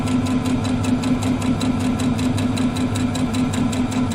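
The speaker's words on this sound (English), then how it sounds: "I'm just going to put my foot down, take a few stitches, back stitch to lock them in, and I'm just going to sew" A sewing machine runs steadily, stitching a quilt seam with a fast, even needle rhythm and a constant motor hum, close and alone with no talk.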